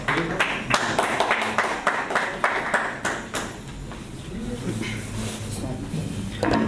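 An audience at an Urdu poetry gathering claps steadily for a few seconds. The applause then thins out as a voice begins speaking over the room.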